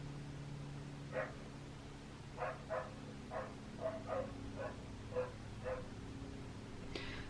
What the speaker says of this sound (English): I hear the dog barking in the background